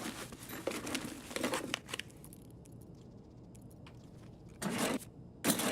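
A bunch of keys shuffled and jangled by hand in short rustling bursts at the start and end, with a quieter stretch in between.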